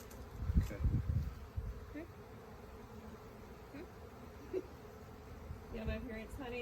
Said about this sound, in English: And get these bees off.